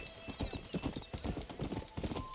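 Horse hooves clip-clop at a steady riding pace in the Red Dead Redemption video game, a quick continuous rhythm of close, moderately loud hoofbeats.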